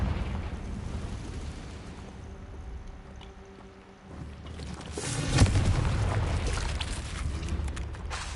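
A Confringo blasting spell goes off in the video game Hogwarts Legacy, a deep rumbling burst swelling midway through over a steady ambient bed, with no voices.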